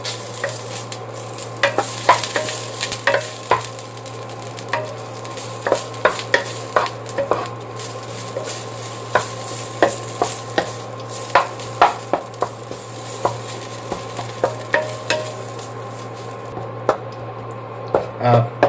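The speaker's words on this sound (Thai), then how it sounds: "ผัดพริกแกงกับน้ำมันก่อน" Thai curry paste stir-fried in oil for a southern pork dish, a low hum beneath repeated sharp scraping and tapping strokes of a spatula against the pan at an irregular rhythm, with a quiet sizzle throughout.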